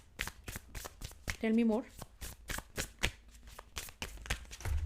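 Tarot cards shuffled in quick, rhythmic riffling bursts with a few cards slipping loose and dropping, close by, while someone talks over the shuffling throughout.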